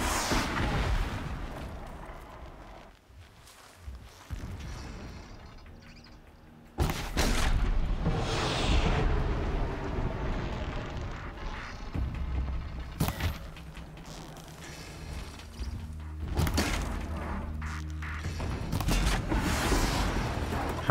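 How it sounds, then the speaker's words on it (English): Distant explosions rumble in the video game Horizon Zero Dawn, heavy booms and bursts breaking out over a continuous low roar of in-game ambience and machine noise, with no talking. "Explosions in the distance."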